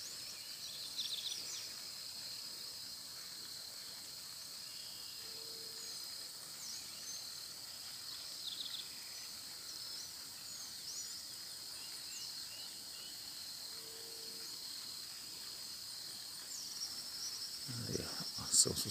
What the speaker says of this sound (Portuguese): Esse ali é só o barulho da água e os cantos dos pássaros.